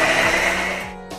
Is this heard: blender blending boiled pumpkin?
yes